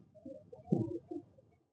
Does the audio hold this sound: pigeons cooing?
yes